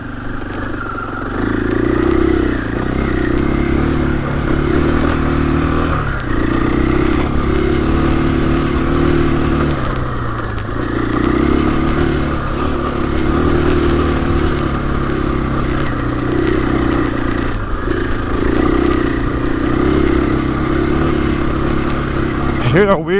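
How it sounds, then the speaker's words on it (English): A 2021 KTM 500 EXC-F motorcycle ridden on a trail, its engine close and loud, droning steadily with repeated rises and dips as the throttle changes. "I hear a weird intake sound. It must be the reeds."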